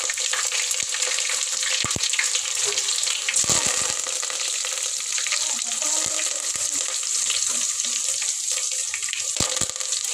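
Onion, cumin and mustard seeds fry in hot oil for a vegetable sambar, giving a steady, dense crackling sizzle throughout with a few sharp pops and utensil clicks, close and fairly loud, with no talking.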